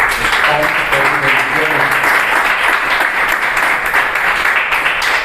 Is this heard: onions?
no